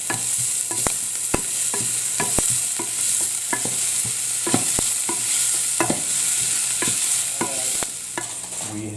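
Garlic sizzles in hot oil for a Sri Lankan mutton curry, with a spoon stirring it around the pan in sharp, regular scrapes and clicks over a steady hiss; close and fairly loud, no talking.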